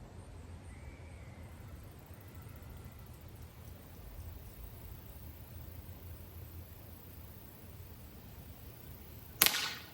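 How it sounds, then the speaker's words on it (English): A single sharp pistol shot, fired one-handed at an outdoor range, cracks loud and close near the end after a long stretch of quiet, steady background hiss. "I'm gonna let the shot break and I'm gonna hold it up there a little bit longer"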